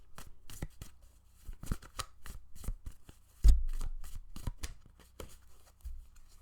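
Tarot cards being shuffled and handled in a rapid run of crisp riffling slaps and flicks, with one heavier thump midway, close and fairly quiet with no talking.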